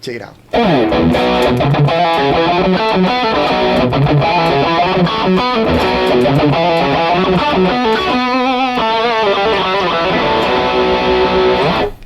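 An electric guitar played through a Gokko Salem Boost pedal gives a crunchy, edge-of-breakup overdriven tone, loud and continuous with strummed chords and riffs, after a brief spoken line at the start.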